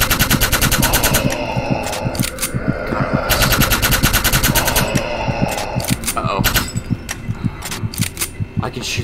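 Rapid automatic gunfire in an SCP-style horror video game, 10-103: Null Kelvin, sounds as loud, tightly spaced, regular shots. The shots are continuous at first and break into shorter bursts toward the end.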